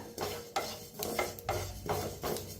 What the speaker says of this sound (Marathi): छान भाजले ते, चटचटायला लागले ते कसे।